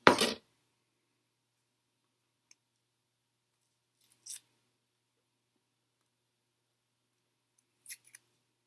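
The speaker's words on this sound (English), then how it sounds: "so you just cut up a little bit of each that you want" Scissors snip once sharply at the start, followed by a few faint clicks and two later quiet snips, close and isolated in an otherwise silent room.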